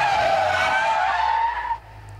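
Toyota AE86 Hachi-Roku spinning out during drift training, its tires letting out a loud, sustained squeal that fades abruptly near the end.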